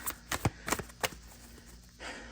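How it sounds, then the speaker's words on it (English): Tarot cards being shuffled by hand up close, a few quick papery riffles and flicks in short bursts, then soft rustling, quiet with no talking. "We're going to be live shuffling."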